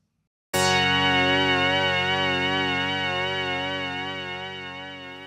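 A sustained synth patch recreating the sound of a song, built in Logic and MainStage, starts abruptly after a short silence as a rich, buzzy held chord with slight wavering and slowly fades over several seconds.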